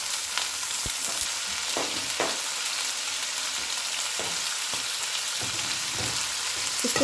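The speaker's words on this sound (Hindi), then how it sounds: "चिकन डाल के इसको मैं फ्राई करूँगी" Chicken cubes fry in a pan with ginger and garlic for a teriyaki egg fried rice. A close, steady sizzle hisses throughout, with occasional light scrapes of stirring.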